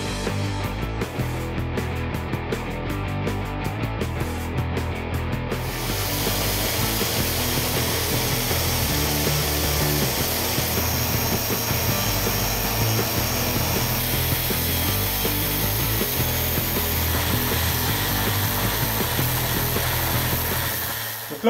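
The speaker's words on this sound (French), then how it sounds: "l'outil de prédilection, la Rotex 150. Donc là on attaque avec un grain 60, et là ça va vraiment dépoter" A Festool Rotex 150 sander with 60-grit paper works an oak tabletop, giving a continuous, close, loud whirring and rasping drone that holds steady for the whole stretch without pauses.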